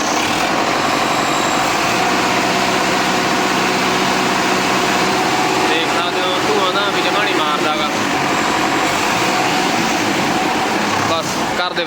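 A Sonalika tractor engine runs loud and steady throughout, a continuous diesel drone that rises in intensity as it is revved, with someone talking over it.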